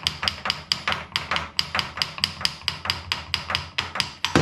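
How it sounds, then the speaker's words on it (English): Sharp metallic brass hammer taps on a lathe front cover repeat in a steady, quick rhythm, about three or four strikes per second, close and fairly loud with no talking. "I could actually just tap it with a brass hammer"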